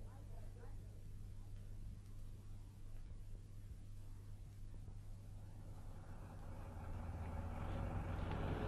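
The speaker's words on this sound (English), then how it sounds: "By Timothy, this traffic really is appalling." Traffic sound effect from a radio drama: a steady, low rumble of passing cars and vehicles with a constant engine drone, swelling louder toward the end, heard alone without voices.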